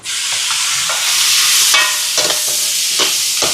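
A spoon scrapes and stirs through sizzling prawn curry masala with tomatoes in a hot pan, a loud constant fry hiss punctuated by several close clacks and swishes.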